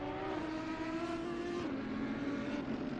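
A Porsche race car engine in Assetto Corsa Competizione holds a steady high-pitched drone with a slight pitch shift, heard faint and continuous, with no talk over it.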